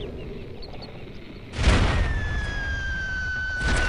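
Rockets firing from an airship in the game Air Buccaneers: a sudden loud whooshing blast that carries on as a sustained roar, a high whistling tone trailing off, and a second burst starting near the end.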